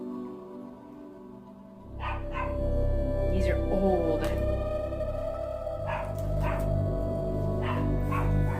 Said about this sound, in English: My dog is barking because my son's got some friends coming over.